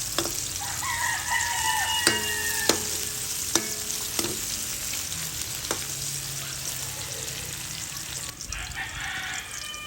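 Chopped onion sautés in a pan for chicken adobo, giving a steady close sizzle with occasional sharp clinks of a utensil stirring, while a rooster crows faintly in the background.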